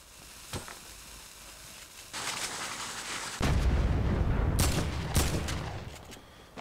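Shotgun blasts in a video game: a few sharp, loud reports spaced seconds apart over a rumbling, noisy battlefield background, no talk.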